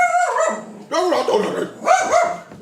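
A dog barks in a few sharp, close bursts while people talk over it during a podcast recording.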